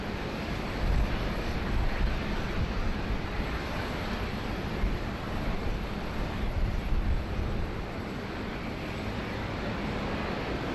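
Qantas A330 airliner at Sydney Airport, heard as a steady broadband engine roar at moderate distance, holding constant for about ten seconds with slight swells and no talking.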